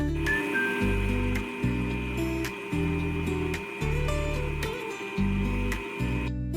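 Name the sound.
electric mixer beating cake batter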